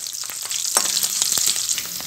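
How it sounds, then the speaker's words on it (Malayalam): Chopped garlic frying and being stirred in a pan of gooseberry pickle, a steady bright sizzle with scattered scraping clicks of the spoon, close and continuous. "നന്നായിട്ട് ഇളക്കാം."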